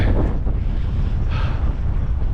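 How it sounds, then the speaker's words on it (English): Strong wind on Slieve Meelbeg in the Mourne Mountains buffets the microphone in a steady, loud roar with low rumbling gusts and no voices. "it's windy enough"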